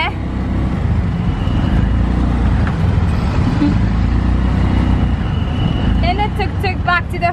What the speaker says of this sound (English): This is how crazy the traffic is.